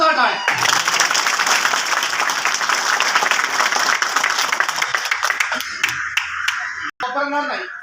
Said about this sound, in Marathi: या तमाम पोलीस अधिकाऱ्यांसाठी, तमाम पोलीस कर्मचाऱ्यांसाठी एकदा जोरदार टाळ्या.